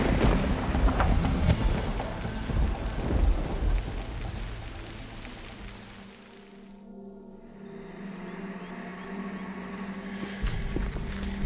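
A thunderstorm with heavy rain in Uganda near the Nile River: dense, loud rainfall pours steadily with deep rumbling thunder, easing slightly midway before building again, with no voices.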